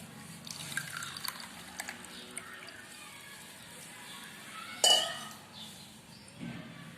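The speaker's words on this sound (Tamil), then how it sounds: "இப்போ இந்த மாதிரி டம்ளர்ல ஊற்றி எடுத்துக்கலாங்க" Coconut ice mixture poured into tumblers in a home kitchen, soft trickling and dripping with a few light glass clinks, quiet and close, with a faint voice in the background.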